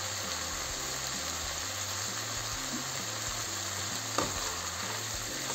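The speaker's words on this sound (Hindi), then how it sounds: "थोड़ी सी फ्राई हो चुकी है सब शिमला मिर्च" Capsicum sizzling as it fries in a large wok, a dense continuous crackle with a steady low hum underneath, close and alone with no voices.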